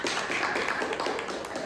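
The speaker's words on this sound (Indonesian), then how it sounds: "Silakan tepuk tangan untuk Rifka." Applause from a classroom audience of students, a steady dense patter of many hands clapping at moderate level throughout, with no talk over it.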